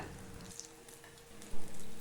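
Oil sizzles and crackles steadily as lentil-based sweet batter fries, with a brief bump and clatter near the end.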